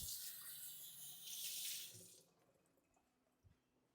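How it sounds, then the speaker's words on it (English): A cocktail jigger being rinsed under a running kitchen tap, water splashing steadily for about two seconds before the flow cuts off, leaving a faint clink and drip afterward. "Rinse out the jigger as well."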